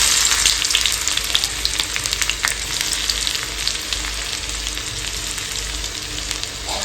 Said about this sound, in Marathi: तेल गरम झालं आहे थोडा कांदा ॲड करूया